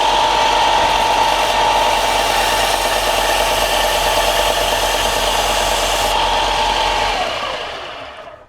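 A belt sander runs with a steady, loud grinding whine while its abrasive belt is cleaned with a Klingspor abrasive cleaning stick, then spins down and fades at the end.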